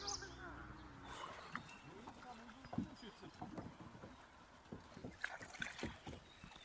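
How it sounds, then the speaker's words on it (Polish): A kayak is paddled on a river against the current, with soft rhythmic paddle splashes and water gurgles close by under a steady outdoor hush, while people talk quietly. "Jesteśmy na kajaczkach, płyniemy sobie"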